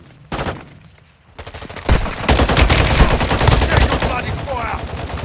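Gunfire in the mobile shooter Warzone Mobile: a single sharp shot, then after a pause a dense, sustained burst of rapid automatic fire, loud and close.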